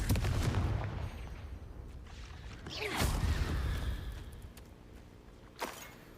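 Explosion spell cast in the video game Hogwarts Legacy: a sharp blast at about three seconds with a roaring, crackling tail, plus a smaller burst near the end, over steady game rumble and effects.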